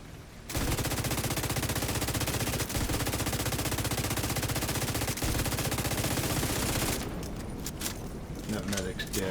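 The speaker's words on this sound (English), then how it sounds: "Can't let them use that minigun!" Sustained minigun fire in the shooter game The Division 2 roars as one long, loud, continuous burst for about six seconds, then tapers into scattered shots and clatter, with voices talking over it.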